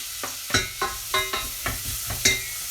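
Two diced onions and a clove of garlic dropped into a preheated pan, a close run of scrapes and stirring knocks in an uneven rhythm over a soft sizzle.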